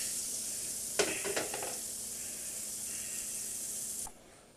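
Butter and garlic sizzle steadily in a frying pan, a close, even hiss with a few brief clatters early on before the sound cuts off sharply near the end.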